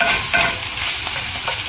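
Minced garlic being stirred into yuca hash frying in a pan, a loud steady sizzle up close with a few soft scrapes of the stirring utensil.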